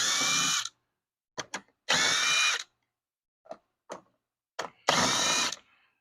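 A power drill driving an 8 mm socket on a 3-inch extension during timing belt work on a 2015 Ford Escape 1.6 liter, giving loud whirring bursts with short ratchety clicks between them and pauses of silence.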